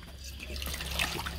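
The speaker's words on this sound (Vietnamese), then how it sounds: "xin phép là mình sẽ xả nước." Water let out to rinse an ostrich feeding trough, a steady soft rushing and splashing flow, faint and continuous with no voices.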